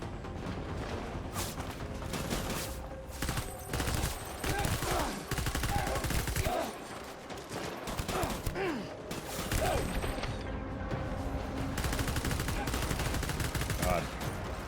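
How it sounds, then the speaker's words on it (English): Dense video game gunfire, rapid bursts and fusillades close up, continuous over the whole stretch with a few brief lulls and faint voice sounds under it. "shooting is not comfortable in this game"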